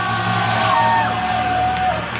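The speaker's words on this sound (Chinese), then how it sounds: "我需要你的尖叫" An audience at a Taiwanese opera troupe's curtain call on an outdoor temple stage whoops, shouts and cheers together as a sustained, boisterous roar, heard from within the crowd.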